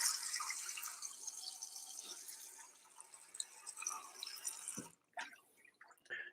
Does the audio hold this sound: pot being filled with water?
yes